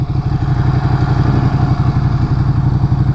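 A Ducati Panigale motorcycle riding through city streets, its engine a loud, steady, close throbbing drone with fast rhythmic pulsing throughout, and no speech.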